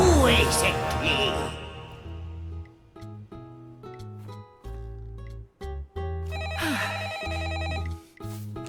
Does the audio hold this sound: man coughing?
no